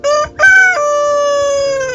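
A rooster near a new breeding coop crows loudly and close by, a short opening note followed by one long drawn-out call, alone without talk.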